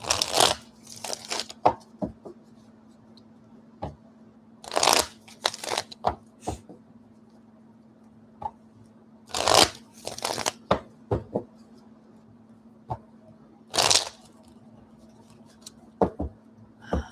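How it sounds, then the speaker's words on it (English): A tarot deck is shuffled in several quick riffling bursts separated by quiet pauses, with soft taps of cards being handled in between, under a faint steady hum. "One more shuffle."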